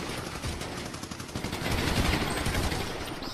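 Rapid bursts of video game gunfire rattle continuously, dense and loud, with the sharp crackle of automatic weapons filling the whole stretch.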